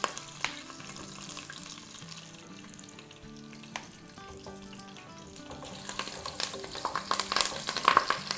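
Hand-broken green chillies fry in hot oil for kadhi, a soft crackling sizzle with stirring clatter that grows busier and louder toward the end.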